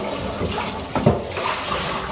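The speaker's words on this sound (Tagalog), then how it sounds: "hugasan na natin siya mga bi. Ayan, gamit natin ay gripo." Water runs steadily from a tap while squid is rinsed under it, with a brief splashing burst partway through.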